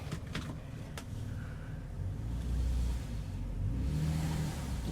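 A Nissan Altima revs as its wheels spin in mud, a low, rumbling engine note rising and falling with faint clicks, heard from inside the car.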